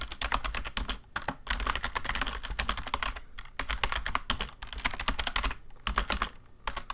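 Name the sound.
typing on a computer keyboard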